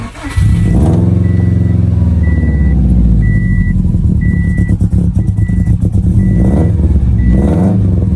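A Subaru STI with a roughly 700 whp build cranks and fires up, then idles loudly and steadily nearby as a repeating beep chimes over the engine.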